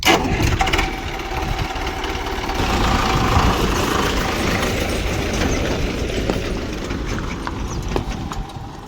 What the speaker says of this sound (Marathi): ही मशीन आणली आता ट्रॅक्टर चालले ना